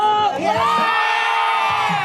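Baseball crowd at an NC Dinos game roaring in a loud sustained shout on a cheerleader's cue, with rising whoops and yells blending into a dense, continuous wall of voices.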